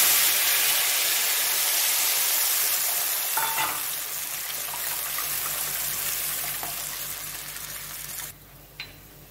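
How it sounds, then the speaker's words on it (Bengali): Mustard seeds and dried chillies tempering in hot oil, a loud, dense, continuous sizzle and crackle close up, with a few faint clinks, the sizzle cutting off abruptly near the end. "ওই তেলে সরষে আর শুকনো লঙ্কা ফোড়ন দিচ্ছি"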